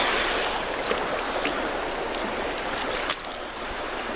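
Creek water rushing and burbling steadily around a person wading across slick rocks on a hot day, a broad, close wash of flowing water with a few small splashes, no talking.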